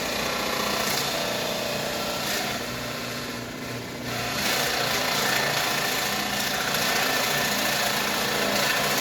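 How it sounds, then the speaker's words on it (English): A power drill bores holes into wooden boards for a hat rack, a steady, close whirring grind that runs almost continuously, dipping briefly in the middle before carrying on. "I'm sure you don't want to sit and watch me drilling every one of these"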